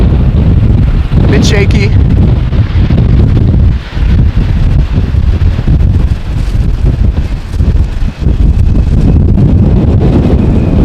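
Heavy crosswind buffets an outdoor camera microphone at Amsterdam Schiphol Airport, a loud continuous low roar and rumble with gusty swells, while someone talks briefly over it.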